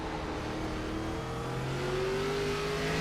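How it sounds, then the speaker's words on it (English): A stock-car racing engine in the iRacing sim, an ARCA car at the Bullring short track, revs steadily with a rising throttle pitch, loud and close throughout, no talk. "Listen to the throttle control from the 5."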